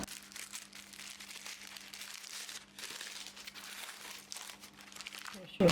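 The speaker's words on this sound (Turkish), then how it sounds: "Bunu böyle buruşturuyorum." A sheet is crumpled by hand to cover a dish of stuffed eggplant rolls before baking, giving close, continuous crinkling in uneven bursts over a low background hum.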